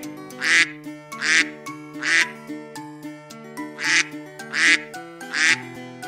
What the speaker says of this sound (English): Green duck.